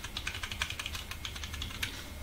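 Fingers type a value on a computer keyboard and press enter while drafting walls in Revit Architecture. About a dozen quick, crisp keystrokes click in an uneven, rapid rhythm, close and clear, with no speech.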